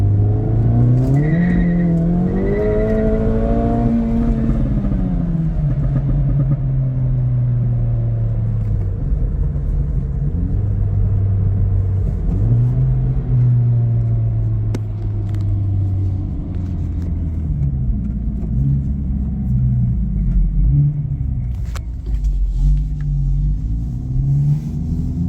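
Acura Integra DE5 engine on a dyno pull, loudly revving up through the gears with rising and falling pitch, then settling into lower steady rumbling and shifting revs.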